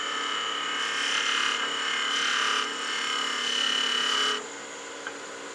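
A skew chisel makes slicing cuts on wood spinning on a lathe while turning a small gnome Christmas ornament, a bright hissing scrape running in several bursts over the steady motor hum before the cut stops near the end.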